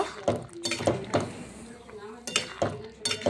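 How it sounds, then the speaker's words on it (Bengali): Vegetable stems cooking in a pot are stirred in short bursts, with spoon scrapes and clinks against the metal and a soft sizzle between strokes, while a voice talks now and then. "এইভাবে এখন একটু নেড়ে নিচ্ছি"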